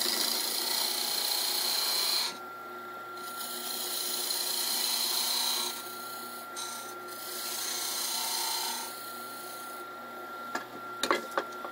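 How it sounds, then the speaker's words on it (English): A lathe turns a wooden peppermill blank while a tool cuts a tenon at its top end, making a steady scraping, rasping hiss that starts and stops in several bursts over the motor's hum, with a few clunks at the end. "I want to turn a tenon down at this top end here"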